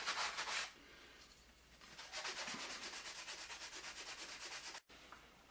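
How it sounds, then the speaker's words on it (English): Close, steady rasping of sandpaper worked back and forth along the edges of a small HO scale model wall piece for a lumber building. The strokes come in quick, even rhythm, with a brief pause near the end. "So what I do is I just sand my edges here a little bit"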